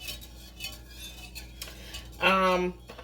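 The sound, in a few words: whisking custard in a pot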